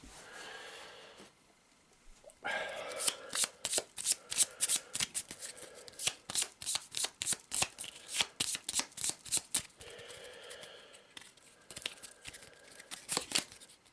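Cards in a board game being drawn and shuffled from a deck, a rapid run of crisp riffling flicks and slaps that stays close and fairly loud, pausing briefly before resuming with steady rhythmic bursts.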